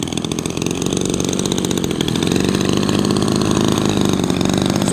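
A small 52cc two-stroke brush cutter engine powering a model plane buzzes steadily and loudly, a raspy, high-revving drone running close by, outdoors at an airfield in strong wind.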